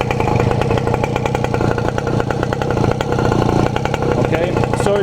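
A small engine vehicle with a clutch runs loud and close in a workshop at a steady, buzzing idle, with a little throttle blipped near the end.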